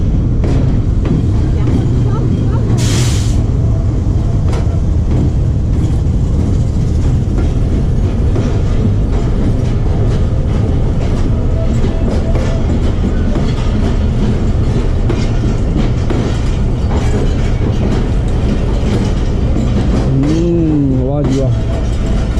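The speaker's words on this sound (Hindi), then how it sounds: "कराची से आ रही है तेज़ गाम।" The Tezgam passenger train, arriving from Karachi, thunders past on the rails close by with a loud, continuous rumble and clatter of wagons lasting the whole time, while people speak over it.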